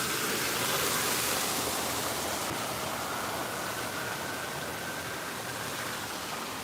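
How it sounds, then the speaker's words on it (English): A garden waterfall gives off a steady, broadband rush of falling water that holds constant and fairly loud from start to finish, with no voices. "We have some waterfall here."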